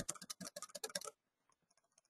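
Quick bursts of keystrokes on a computer keyboard, a fast close-up clatter for about a second, then a few sparse, fainter taps trailing off into quiet.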